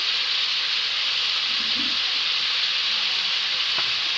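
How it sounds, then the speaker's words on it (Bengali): Potatoes fry in oil with salt and turmeric, giving a loud, steady, close hiss of sizzling throughout, with a few soft stirring scrapes and a brief tap near the end. "আমি ভালোভাবে লাল লাল করে আমি ভেজে নেব"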